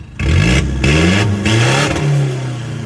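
An Isuzu 1.9 pickup engine revs up hard in repeated bursts, rising and falling in pitch, close and loud with no talking.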